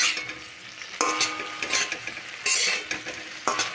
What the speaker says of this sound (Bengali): 2 মিনিট পর আমি ঢাকাটা খুলে নেব আর একটু নাড়াচাড়া করে নেব।